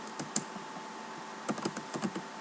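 Fingers type code on a computer keyboard, a quick run of close, crisp keystrokes in two bursts separated by a short pause, with no voice.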